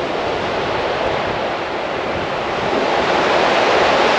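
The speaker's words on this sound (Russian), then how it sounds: "Но шторм, друзья, не такой уж и сильный здесь" Rough stormy sea surf in Crimea roars continuously with heavy wind noise buffeting the microphone, a dense wash of crashing water throughout.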